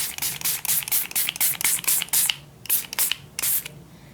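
A spray bottle spritzes coffee onto deli paper to dye it, a rapid series of short hissing bursts in a fairly even rhythm with a brief pause midway, close and moderately loud.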